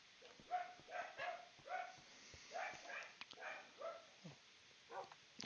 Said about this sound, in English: The neighbor's dogs are being terrible again today.